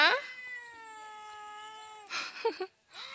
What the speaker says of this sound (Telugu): ఇక్కడైతే మా పిల్లి అరుస్తాంది పైన